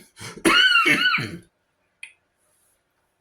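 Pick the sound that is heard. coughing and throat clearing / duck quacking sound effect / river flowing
coughing and throat clearing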